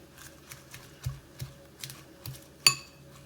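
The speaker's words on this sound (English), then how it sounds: "into it and just mix it up" Salad for a vegan buddha bowl with spring mix and avocado being tossed in a bowl, giving soft, rhythmic clinks and taps of utensil against the dish, about eight light knocks ending in one brighter clink, quiet and close.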